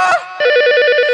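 Telephone ringing loud and close, a short tone followed by a fast trilling electronic bell warble lasting about a second.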